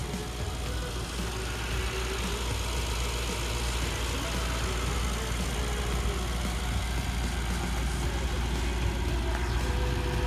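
The hand-built 4-liter bi-turbo V8 of a 2021 Mercedes-AMG GT63 S four-door idles with a steady, even low rumble throughout, while someone talks over it.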